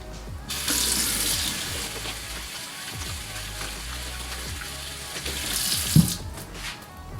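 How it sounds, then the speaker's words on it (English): Running tap water splashes steadily into a sink as rosewater and lavender body wash is rinsed off, a close, continuous stream that swells briefly near the end, with no voices. "But now let's rinse it."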